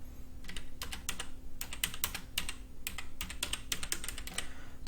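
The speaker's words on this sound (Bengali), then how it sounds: "এখানে সার্চ অপশনে আমি এক্সবক্স গিফট কার্ড লিখে যখন সার্চ করলাম" Rapid bursts of keystrokes on a computer keyboard, typing a short phrase into a search box, clustered in quick runs with brief pauses, close and clear over a low steady hum.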